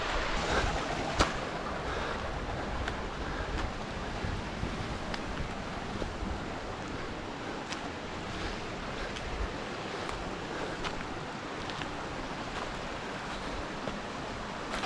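A mountain stream flows along a trail toward a hidden waterfall in Harnoi near Abbottabad, a constant broad rushing wash that stays close and steady throughout, with no voices.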